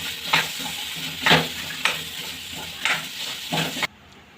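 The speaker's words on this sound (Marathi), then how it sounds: "आणि 2 आलू घेतलेले उकडून हे टाकून घेऊ याच्यामध्ये आणि मिक्स करून घेऊया आपण" Boiled potatoes being stirred into a hot frying pan make repeated scraping strokes every second or so over a soft sizzle, cutting off abruptly near the end.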